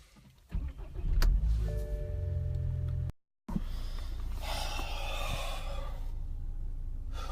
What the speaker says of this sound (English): let's start the vehicle.